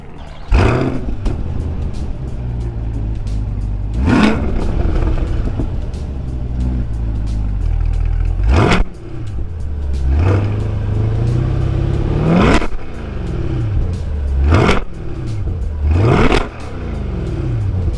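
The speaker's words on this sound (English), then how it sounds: "let's fire up that V8 and hear it rev" A 2022 Corvette Stingray Z51 V8 fires up, then revs in sharp repeated blips: roughly six loud, close throttle bursts spaced a few seconds apart over a steady, rumbling idle.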